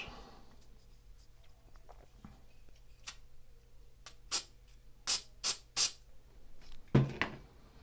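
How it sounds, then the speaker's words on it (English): An adhesive activator is sprayed onto a 3D-printed part in four short, sharp hissing bursts at close range. Quiet handling taps come before them, and a soft knock follows. "I'll spray some activator on this"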